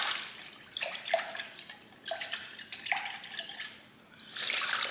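Homemade chicken broth made from bouillon and water is poured into a pressure cooker holding pig ears in a flavor pouch, giving a soft, splashy liquid trickle in uneven bursts, fairly faint and close.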